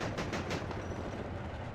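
Autocannon fire in the WARNO war game: a dense, rapid stream of rumbling shots with a few sharper bursts early on, continuous and fairly loud across the whole stretch.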